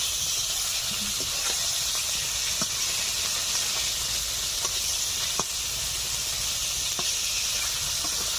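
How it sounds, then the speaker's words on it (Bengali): Rohu fish pieces being turned and fried in a very hot wok (kadai), giving a steady, loud oily sizzle and hiss throughout, with faint scattered crackles and spatters and no talking. "এখন মাছগুলোকে উল্টে ভেজে নিচ্ছি"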